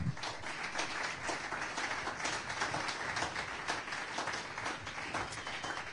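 A church congregation applauding during a sermon, a faint, even stretch of many people clapping continuously for several seconds, heard from some distance.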